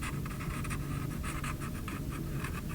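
A pencil sketching an off-the-shoulder top with a ruffle on a fashion croquis, giving a steady, close scratchy stroking that continues with short repeated strokes and no talking.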